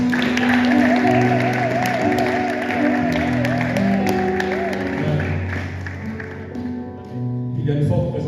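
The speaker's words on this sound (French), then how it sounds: "Est-ce que vous pouvez applaudir encore une fois pour Jésus?" Church congregation at a French-language Sunday service applauding, continuous clapping and whoops blended with music and singing, fairly loud before briefly dipping near the end.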